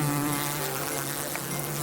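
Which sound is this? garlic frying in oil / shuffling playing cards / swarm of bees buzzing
swarm of bees buzzing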